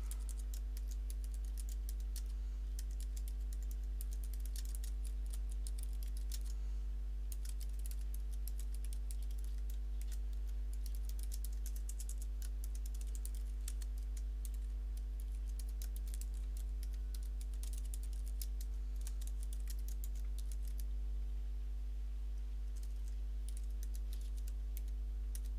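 Continuous clicking of fingers typing HTML on a computer keyboard, a steady close patter of keystrokes over a constant low electrical hum, without speech.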